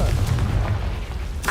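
Confringo blasting spell fired in the Hogwarts Legacy video game on Hard difficulty, a steady low rumbling boom that lingers, ending in a brighter burst near the end.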